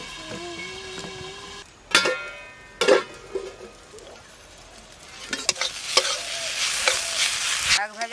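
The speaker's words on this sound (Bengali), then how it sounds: "শাক তো ভাজা হয়ে গেল" Leafy greens (shak) frying in mustard oil in a pan, a close crackling sizzle broken by sharp stirring scrapes and clatters, with the hiss swelling louder toward the end.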